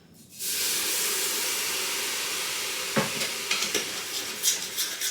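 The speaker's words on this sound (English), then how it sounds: "I'm going to add a little splash and you're going to hear a big sizzle" A loud, steady sizzle erupts as stock hits a hot pan while deglazing, hissing continuously with a few sharper crackles and scraping sounds toward the end.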